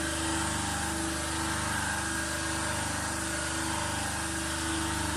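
DC shunt motor driving an induction generator in a lab experiment, giving a steady, continuous hum with constant harmonic tones and no variation in level, heard alone.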